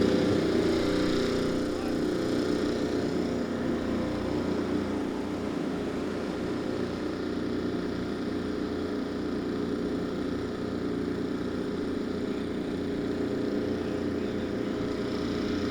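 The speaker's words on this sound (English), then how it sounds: "Drivers, start your engines!" IndyCar race car engines are running together at a street circuit race in Alabama, making a dense, continuous loud drone that stays steady for the whole stretch, with crowd noise and commentary voices mixed in.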